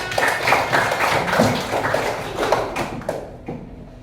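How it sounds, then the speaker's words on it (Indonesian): A primary school class claps hands together in a classroom, a dense, fairly loud patter of many small hands that stays steady for a few seconds before thinning out at the end. "tepuk tangan untuk kita semua"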